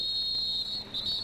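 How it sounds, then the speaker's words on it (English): Referees' whistles shrill at a 1995 club lacrosse all-star game, a high piercing tone sustained with a brief dip and then resumed, over low crowd rumble. "Symphony of whistles"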